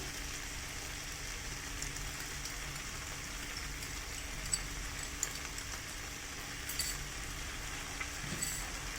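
Kabuli chickpeas are stirred in a cooking pan, giving faint, continuous scraping and soft sizzling with a few light taps, quiet and without voices.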